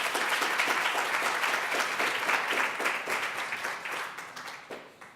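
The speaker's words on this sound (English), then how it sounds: "Please give him a big round of applause" Applause from a crowd welcoming the keynote speaker at Temecula Startup Week 2018. Many hands clap together in a dense, even roar that begins to thin out near the end, with a few scattered claps trailing off.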